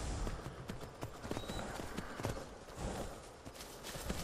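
Horse hooves clip-clop at a steady walking pace in Skyrim VR, a quiet run of evenly spaced clops close by, with a faint brief tone in the background.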